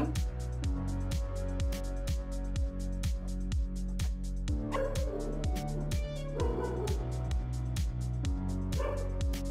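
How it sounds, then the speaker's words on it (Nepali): Dogs bark at night in a steady run of repeated barks with some yips in between, fairly close and continuous. "राति कुकुरले डिस्टर्ब गर्ने"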